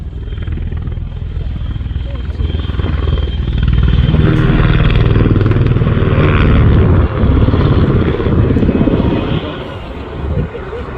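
A Czech W-3 Sokol helicopter with a four-bladed composite main rotor and three-bladed tail rotor flies a display at an airshow, a loud, steady rotor thrum and engine roar, with announcer commentary over it.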